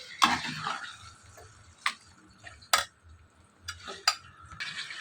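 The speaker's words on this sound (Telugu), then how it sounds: "చికెన్ మొత్తం వేసేసుకున్న తర్వాత ఇదంతా బాగా మిక్స్ అయ్యేలా కలుపుకోవాలి." Chicken being mixed with fried onions in a pan, scattered sharp clinks and scrapes of a spoon against the pan over a faint low sizzle, close, without speech.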